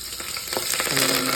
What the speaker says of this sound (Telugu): మిరియాలు, దాల్చిన చెక్క వేసేసుకొని గరిటెతో మిక్స్ చేసుకోవాలి బాగా